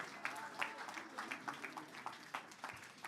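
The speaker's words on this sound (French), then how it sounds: "Et on peut les applaudir." Audience applauding at a church gathering: steady scattered handclaps from a modest crowd, moderately faint and slightly distant, with a voice speaking over them.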